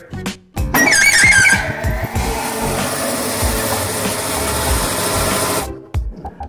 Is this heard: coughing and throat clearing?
no